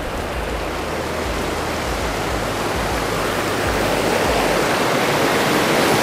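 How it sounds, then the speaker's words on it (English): Loud, steady rush of water pouring from an air conditioning spillway into a lake, a broad continuous roar close by with low rumbling underneath and no talking. "I could see the air conditioning spillway and water's coming out of it right now"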